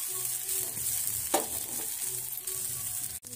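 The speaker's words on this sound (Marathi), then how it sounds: "2 मिनिटं ह्याला दुसऱ्या बाजूने पण शेकून घेऊ, म्हणजे ती व्यवस्थित पचली जाईल." Wheat flour batter sizzling in a pan while its second side roasts, a steady soft frying crackle with one brief scrape and a short dropout near the end, alone with no voices.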